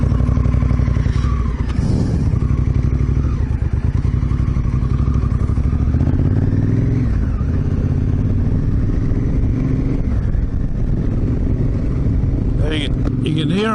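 Honda Africa Twin motorcycle engine climbing a hill as the rider short shifts, a steady close mid-pitched drone with brief dips at the gear changes and a voice talking over it throughout.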